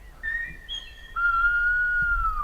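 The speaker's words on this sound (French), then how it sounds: "on entend un siffleur qui est celui de gauche, qui siffle pour aller le plus loin possible et qui parle à son frère" Whistled speech from a whistler calling far across open ground to his brother: a few long, piercing sustained whistled tones that glide in pitch, loud and clear against quiet surroundings.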